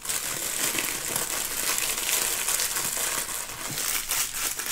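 Diamond painting packaging crinkled by hand, a steady close run of crisp plastic rustling and crackling that carries on without pause for the whole stretch, with no voices over it.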